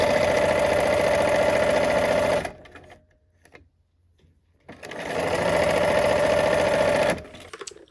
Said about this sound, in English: Let's go ahead and put a pin in that and sew that.